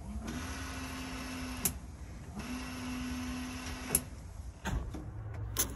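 Washer pump motor on a vintage Toyota FJ40 Land Cruiser whirs in two steady bursts of about a second and a half each, separated by a short pause, followed by a few faint clicks in a quiet cab.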